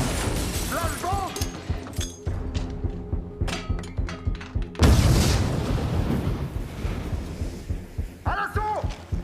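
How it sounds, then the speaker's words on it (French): A flashbang grenade goes off during an assault scene in a French action film, a sudden loud broadband blast near the middle followed by a sustained roar, with clattering hits and shouted voices before and after. "Flashbang!"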